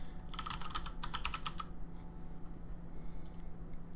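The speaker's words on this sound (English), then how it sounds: "so I'm gonna just type that out." A username is typed on a computer keyboard in a quick flurry of close clicking keystrokes, then a pause and a few last taps, over a faint steady hum.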